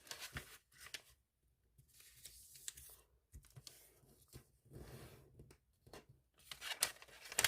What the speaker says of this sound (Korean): 펼쳐서 이번엔 네모 두 번 접어주세요.